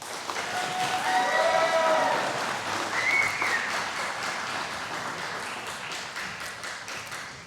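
Audience applause for a group of local political candidates at a Republican meet-the-candidates event, a steady wash of clapping that swells early and then slowly thins out, with brief cheering voices.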